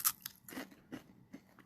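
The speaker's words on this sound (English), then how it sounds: "So I have this unique little puff pop treat and it's very crunchy." Crunching on a caramel-coated puff pop treat like puffy caramel corn, with about five crisp, crackly bites spaced irregularly, close and fairly quiet.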